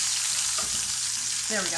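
Chicken cutlets fry in a pan over medium heat, a loud continuous sizzle running throughout, with a brief spoken remark partway through.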